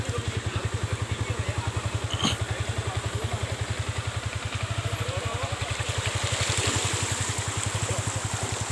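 A motorcycle engine runs through flood water on a residential housing street in Pamulang, its fast, steady pulsing close by, with a brief clatter and a rising swell of splashing water toward the end.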